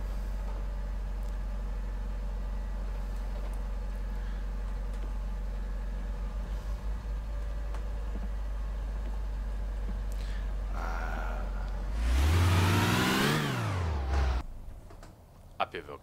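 A Nissan Silvia S14 in the City Car Driving game idles with a steady low hum, then revs up sharply and climbs in pitch as it pulls away before fading out, with someone talking over it.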